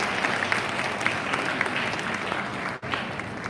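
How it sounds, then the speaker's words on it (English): Sustained audience applause at a school prize day for grades 10 and 12, a steady wash of many hands clapping at moderate distance, with a brief dip near the end. "Please don't hold back your applause."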